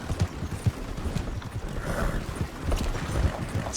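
Horse hooves clip-clop in a video game, a string of irregular muffled thuds under a busy background of game sounds, with no clear speech.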